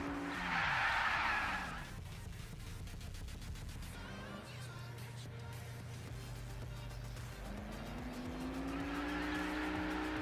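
A car engine revs in the mobile game Car Parking Multiplayer, then tires squeal in a long sustained skid as the car brakes and drifts, the engine climbing again afterward.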